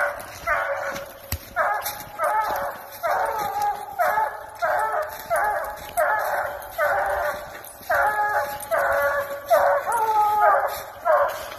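Dogs bark repeatedly in a steady run of loud, close yips and bow-wows, with an occasional howling edge, and no talking.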